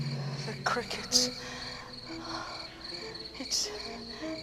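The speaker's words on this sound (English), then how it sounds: "The crickets." Crickets chirping in a quiet night setting, a faint, steady trill with a couple of brighter clicks and a soft hum underneath.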